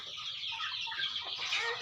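A fighting-breed hen on a game fowl farm clucks in quick, repeated bursts, close and fairly loud, with other chicken sounds mixed in and no talking.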